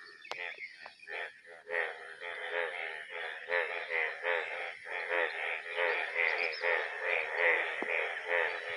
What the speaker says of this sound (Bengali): ওই যে ওইদিকে কিছু ব্যাঙ দেখা যাচ্ছে, অনেকগুলি ব্যাঙ ওদিকে